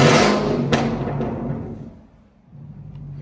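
A 2017 Chevrolet Camaro ZL1 engine revved once from behind the car, starting with a loud roar that quickly fades into a lower idle rumble.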